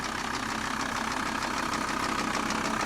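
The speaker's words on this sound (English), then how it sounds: "So as you can hear now, van's running." An old van's engine idles steadily after a clutch repair, a continuous even rumble with a light rhythmic knock, close and alone.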